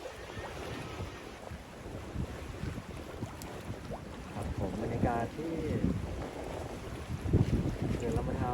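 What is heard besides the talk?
strong wind at a reservoir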